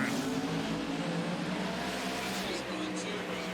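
Pro 275 drag race cars run side by side down a drag strip, a loud, steady engine roar holding throughout with a continuous high whine, crowd and track ambience blended in.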